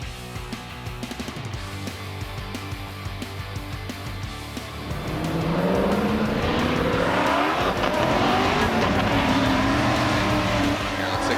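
A Formula Drift Toyota 86 on a course in New Jersey idles and revs in bursts, then roars loud and sustained with tire squeal as it drifts, while an announcer talks over it.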